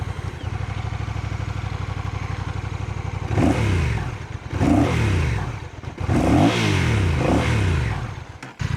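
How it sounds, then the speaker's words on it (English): A 2025 Honda CMX1100 DCT motorcycle engine idling steadily up close, then blipped through several loud revs that rise and fall before settling back, with no talk over it. "We've better start it up first, hadn't it, so you can have a good listen."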